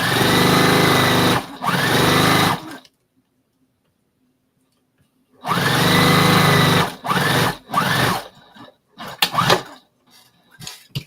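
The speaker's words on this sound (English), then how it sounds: "So let me sew this" A sewing machine stitches quilt fabric in loud bursts of rapid mechanical whirring, a long silent pause in the middle, then shorter starts and stops toward the end.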